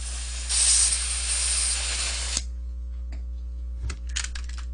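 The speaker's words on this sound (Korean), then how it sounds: "이노 콜트도 제가 다시 가스를 좀 넣겠습니다." Gas is refilled into an INOKATSU M1911A1 airsoft pistol with a sharp, close hiss lasting about two seconds over a low steady hum, followed by a few faint clicks and taps.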